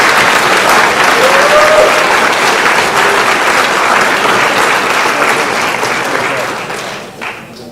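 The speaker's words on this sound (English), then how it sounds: "Let's give all those students a round of applause." An audience at a school sports awards ceremony applauds student award recipients. The clapping is loud and sustained, then thins and fades toward the end.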